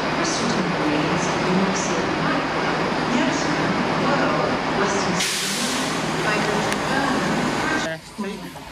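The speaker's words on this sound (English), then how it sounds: "Why is this train, right, on this line, like there, without any platform on it?" A train runs along a line in Cardiff, a steady loud rumble and rush filling the scene for most of the stretch, then dropping away near the end as it passes.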